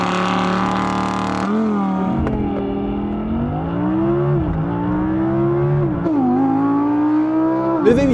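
Second-generation Audi R8 V10 engine revving hard, its pitch climbing and falling through several gear changes and throttle swells, loud and close with no talking.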